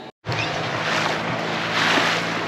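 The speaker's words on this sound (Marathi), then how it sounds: "तर आमची बोट राईड चालू झाली आहे" A boat ride on the sea off Devbag on the Maharashtra coast, with a broad steady rush of wind, water and engine after a brief dropout at the start, loud and continuous without talk.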